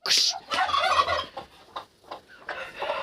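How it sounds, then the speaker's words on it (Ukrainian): A hen gives a burst of loud, rapid gobbling clucks up close, followed by a few softer scattered calls. "курка хоче вже на каченяти йти сідати"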